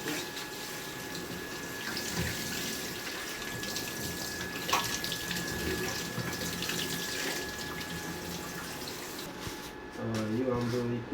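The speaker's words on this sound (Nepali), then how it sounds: "अब पालकलाई धोन्छ।" Spinach being washed under a running kitchen tap, a steady hissing stream of water with occasional splashes and clatter, close by, with a voice briefly audible near the end.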